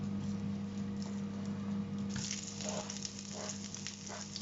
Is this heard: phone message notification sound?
no